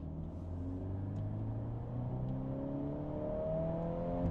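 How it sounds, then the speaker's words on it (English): A turbocharged 2025 Volkswagen Golf R engine revs up steadily under hard acceleration, its rising turbo whine climbing in pitch over a low rumble, heard from inside or close by. "You can hear the turbo go"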